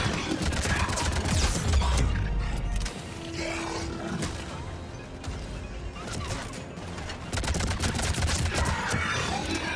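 Gunfire from a weapon in the video game Mass Effect 3, loud dense bursts with heavy low rumble filling the whole stretch, dipping briefly midway before rising again, amid game battle noise.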